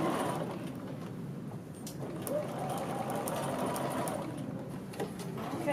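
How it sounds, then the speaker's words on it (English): A domestic sewing machine stitches a garment's shoulder seam, running as a steady, close whirring hum for the full stretch with only slight changes in speed. "Don't sew over pins. It's not good for your machine."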